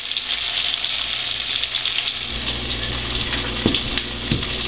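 Pacific herring from San Francisco Bay fry on their second side in a pan, giving a loud, steady sizzle and crackle throughout with a few sharper pops near the end.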